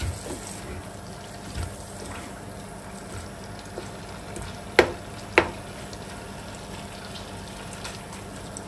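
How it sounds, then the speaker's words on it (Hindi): Soup ingredients sautéing over a high flame, a soft, steady low sizzle with a couple of sharp utensil knocks partway through. "हाई फ्लेम के ऊपर ही इसे हमने भूनना है"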